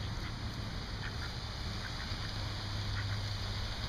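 Ducks at a pond in Orlando quack faintly and intermittently in short scattered calls beneath a steady outdoor hiss and low hum.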